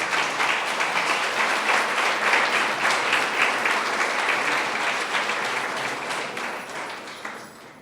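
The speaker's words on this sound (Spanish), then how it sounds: "Dale otro fuerte aplauso al Señor" Loud, sustained applause from a church congregation, steady clapping over about eight seconds that slowly tapers near the end, with no talk over it.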